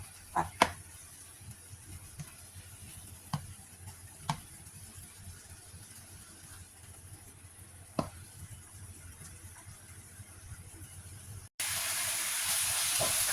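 Pork belly stir-frying in a pan as water boils off, a steady quiet sizzle and hiss with a few sharp pops and clinks of a utensil scattered throughout.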